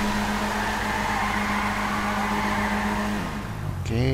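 A heavy car with drift-tuned handling slides in GTA V, its engine droning steadily under a continuous tire squeal, then dropping in pitch near the end before a sharp new screech. No one talks.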